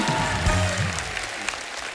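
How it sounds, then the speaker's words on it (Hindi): Studio audience on a TV comedy show applauding arriving guests: crowd clapping fills the clip, layered over lingering tonal music in the first half, then fading to a thinner patter of claps. "जोरदार तालियां हमारे मेहमानों के लिए।"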